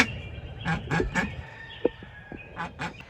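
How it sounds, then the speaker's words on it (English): Several short nasal quacks from a broody duck on its nest close by, spaced irregularly over a low rustling background, with one sharper click in the middle. "We are going to check on this broody duck."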